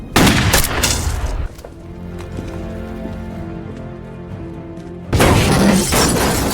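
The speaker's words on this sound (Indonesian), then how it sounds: "Setelah mobil itu meledak" A car explodes in a film, with loud bursts of shattering, crackling debris at the start, a lower rumbling and ringing stretch between, then another dense loud burst at the end.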